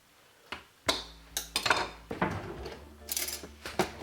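Knife slicing a lemon on a board, a handful of sharp close knocks and scrapes at uneven intervals with faint clinks of kitchenware between them, no talking.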